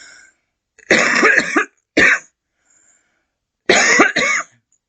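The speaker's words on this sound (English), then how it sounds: "Sorry, coughed on that one" Several harsh coughs close up: a long rasping burst, a short one, then after a pause another double cough.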